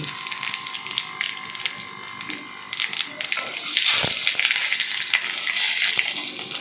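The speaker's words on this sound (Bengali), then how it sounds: "এবার তেলের উপরে ফোড়ন দেওয়ার জন্য দুটো শুকনো লঙ্কা দুটো তেজপাতা আর আধা চামচ সাদা জিরে দিয়ে দিচ্ছি" Two dried red chillies, two bay leaves and half a spoon of cumin hit hot oil for a ridge gourd dal, a close crackling sizzle that swells louder and fuller partway through and stays steady.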